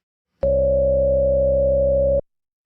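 Sustained single note from an ASM Hydrasynth synthesizer running its Fat 24 filter at high resonance, a steady buzzy tone with a sharp resonant peak held for nearly two seconds, starting and stopping abruptly, alone and loud.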